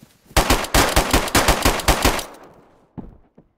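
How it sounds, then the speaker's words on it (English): Automatic gunfire in the video game DayZ: a rapid burst of about a dozen loud, close shots over two seconds, trailing into a decaying echo, then two short isolated shots near the end. "I hit that guy with like 4 or 6 shots"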